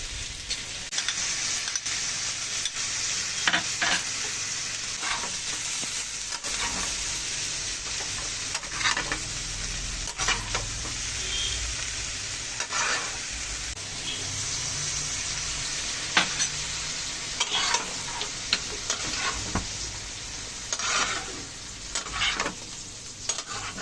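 Mustard paste mixed with ginger, garlic and salt sizzles steadily in a pan, with scraping stir strokes and soft clicks scattered through the continuous frying hiss, fairly close and with no talking.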